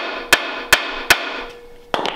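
A hammer taps the corners of an iron flathead cylinder head from a 1939 Mercury engine: three sharp metallic strikes at an even pace, then a quieter scrape and a couple of lighter knocks, close and clear.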